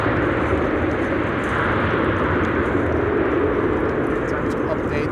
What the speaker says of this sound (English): a Transavia just now landing over here